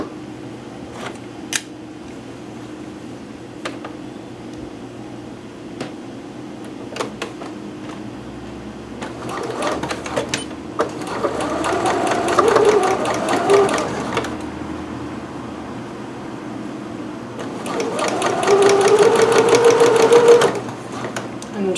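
A sewing machine stitches darts along a faint chalk line in two separate runs, each steady, rapid mechanical whirring lasting a few seconds, with quieter handling noises and pauses in between.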